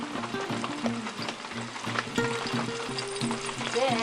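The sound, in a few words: oil sizzling in pan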